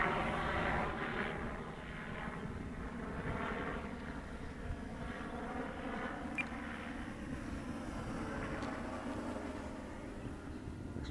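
An FMS 1450mm P-51 radio-controlled plane makes a full-throttle pass, its faint, distant engine whine drifting and gently swelling and fading against quiet open-air background for several seconds.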